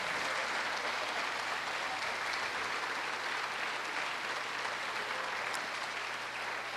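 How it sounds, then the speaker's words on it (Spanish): Steady, dense applause from a church congregation fills the space evenly, a broad wash of many hands clapping at moderate distance without a break or audible talk. "¿Por qué no le da un fuerte aplauso al Señor?"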